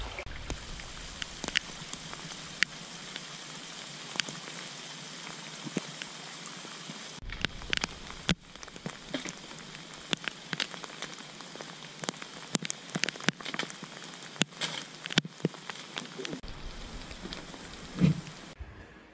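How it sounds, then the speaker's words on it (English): Steady rain patters on surfaces during a hike in the White Mountains of New Hampshire, with a constant close hiss and scattered heavier drops and taps running throughout. "Hiking in the rain and the whites."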